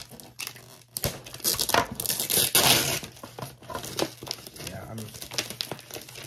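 Thin wrapping paper being peeled and crinkled off a Lego Star Wars box, close-up bursts of rustling and tearing that swell and fade, with brief pauses between handfuls.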